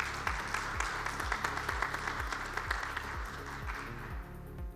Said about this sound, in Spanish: Empezamos y un aplauso para ellos,